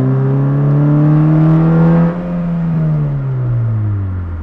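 Modified Honda Fit Si engine revving under throttle, a loud, close, steady harmonic drone that climbs in pitch, dips briefly after two seconds, then settles and eases off.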